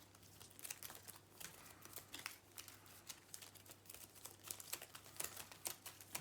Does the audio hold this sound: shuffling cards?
yes